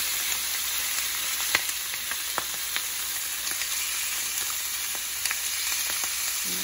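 Chicken legs cooking on an indoor grill with a griddle plate, a constant close sizzle and spatter with scattered sharp pops and crackles throughout, no one speaking.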